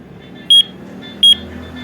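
Colour change alarm clock giving two short, shrill electronic beeps about three-quarters of a second apart while being set, close and distinct over faint background hiss.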